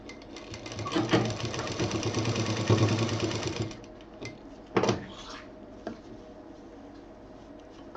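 A sewing machine stitches a handy pouch in a steady whirring run for several seconds, then stops, followed by a few sharp handling knocks and clicks nearby.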